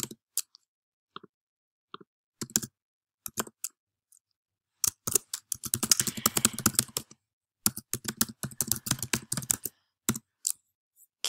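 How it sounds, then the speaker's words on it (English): Keys clack on a computer keyboard as an email address is entered, first as scattered single taps, then a dense run of quick typing with brief gaps, close and fairly quiet. "So let me just quickly type that in."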